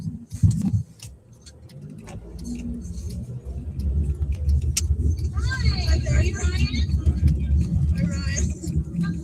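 Steady road traffic rumbles continuously behind outdoor sounds, louder from the middle onward, with birds chirping faintly and a voice briefly talking near the start.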